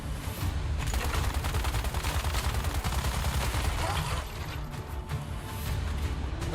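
Rifle fire rattles in the Once Human video game, dense rapid bursts running almost nonstop, loud and close, with a short pause near the end before the shooting resumes.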